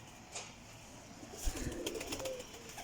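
Sialkoti black-faced pigeons give faint, low cooing and soft rustling nearby, with a brief flutter among the birds.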